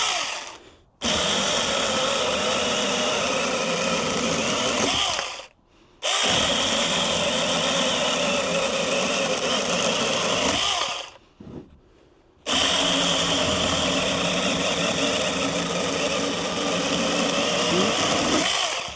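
Battery-powered pole saw cutting tree limbs on a homestead, a loud continuous motor whine in three long bursts separated by brief pauses, close to the listener, no talk.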